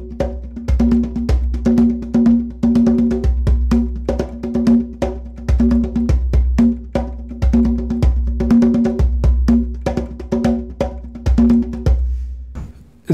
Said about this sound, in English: I'm gonna do a variation of a samba and a mambo rhythm,